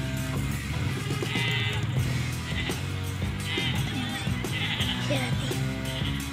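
A sheep or ram, a mischievous village dumba in Khanpur, bleats in short wavering calls amid noisy outdoor background with people talking nearby.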